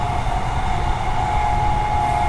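A Transperth A-Series train runs toward Yanchep, heard from on board as a loud, steady rumble with a constant mid-pitched hum throughout.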